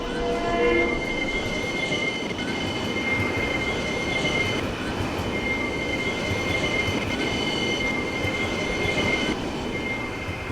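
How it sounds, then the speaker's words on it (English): A train rolls past in the UK with no horn, a sustained rumble of wheels on rails with high metallic squealing tones running throughout, fairly close and steady. "There was no loud siren from that train"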